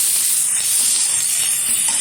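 Steady, bright sizzling hiss of chopped onion frying in hot oil with dried chilli, close and continuous with no talk.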